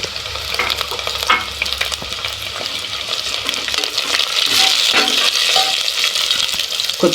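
Green chilies fry in a pan for a quick biryani, making a dense, steady close sizzle with a few light metallic clinks from stirring and no talking.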